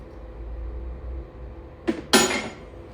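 A metal wrench clanks twice against a motorcycle front end on a Shovelhead project, two short sharp knocks standing out from a quiet room.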